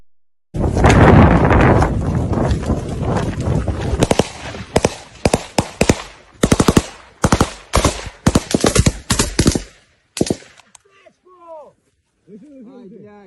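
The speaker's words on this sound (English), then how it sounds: "This is a short video of a firefight ongoing there in this portion in the Kherson area" Heavy gunfire in a firefight near Kherson, dense continuous bursts easing into separate sharp loud shots in rapid clusters, then a lull with faint voices and whistling sounds at the end.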